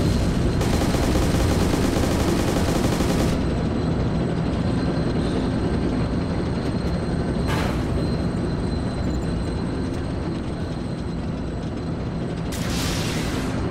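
Gunfire in the combat video game Arma 2, loud, dense automatic firing that runs continuously under a steady roar, with sharp separate bursts cutting through, no talking.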